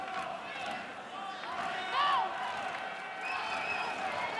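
Crowd noise at a Legends Football League women's football game in Chicago, Chicago Bliss against Seattle Mist in 2014, a steady murmur of fans rising into cheers, with an announcer talking over it throughout.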